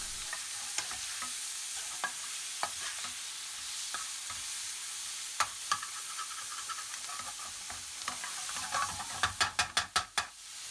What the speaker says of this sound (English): Add the tomato paste and stir through for 30 seconds.